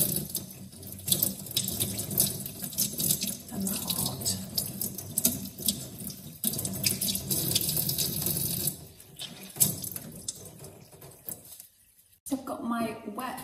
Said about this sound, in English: I'm just going to wet these samples now, ready to go in the pot.